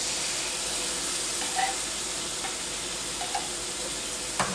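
Coconut milk poured over onions cooking in a pan, giving a steady, moderate sizzle with soft stirring and a few brief sharper crackles.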